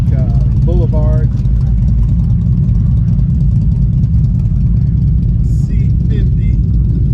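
A black Suzuki Boulevard C50 805cc custom cruiser motorcycle rumbles steadily at idle, a continuous low engine throb close by at a rally, with people talking over it.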